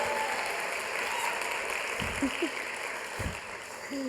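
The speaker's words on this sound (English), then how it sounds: "Now you can clap." A large audience at a university State of the University address applauds steadily, a dense, even wash of many hands heard from a distance, with a couple of brief low thumps near the end.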